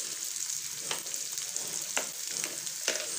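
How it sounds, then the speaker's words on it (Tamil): Potatoes and peas fry with ground dry masala of chili, fenugreek and coriander in a pan, giving a steady close sizzle with a few soft scraping stirs. "போட்டுட்டு இதை நல்லா ஃப்ரை பண்ணணும்"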